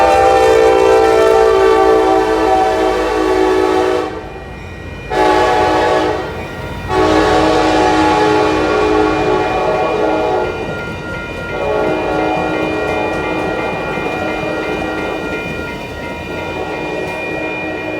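An Amtrak Coast Starlight passenger train sounds its horn in long, loud sustained blasts with brief gaps, then rolls on with a steady rumble as it arrives at an Oakland station.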